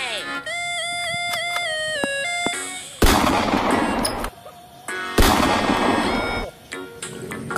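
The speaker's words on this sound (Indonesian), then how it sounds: "Wadidaw, ada tembakan shotgun." Electronic toy beeps and tones give way to two loud, blasting toy shotgun sound effects, each followed by a noisy burst that fades out.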